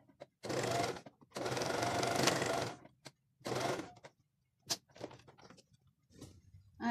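A sewing machine stitches wide summer trousers in several close, loud bursts of rapid whirring, separated by short pauses and light handling clicks, with no talking.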